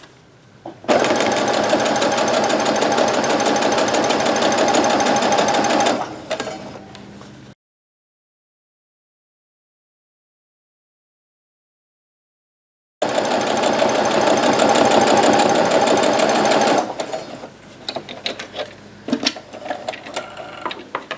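A sewing machine runs in long steady bursts, stitching a black fabric strip onto a Christmas quilt, with a loud continuous mechanical whir close by, a stretch of silence between two runs, and lighter handling clatter afterward.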